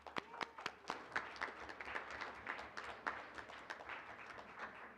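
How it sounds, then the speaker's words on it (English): Applause from the audience at a school board meeting, a modest round of claps with distinct individual hand strikes, fairly steady and moderately close, no talk over it. "Let's get a nice round of applause again"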